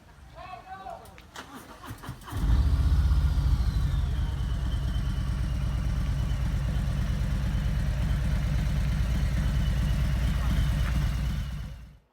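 Harley-Davidson motorcycle engine at a seafront bike club meet, starting after a short stretch of voices and clatter, then settling into a loud steady rumbling idle for about ten seconds before cutting off.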